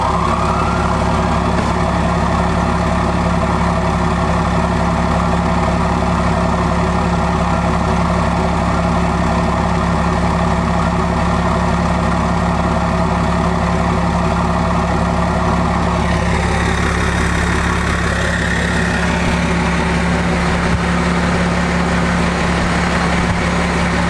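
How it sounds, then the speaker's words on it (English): A Cummins diesel truck engine fitted with a mini smoke stack idles with a steady, loud, deep rumble and no break in the sound, changing slightly in tone about two thirds of the way through. "we can get the truck started up here so you guys can see what this sounds like."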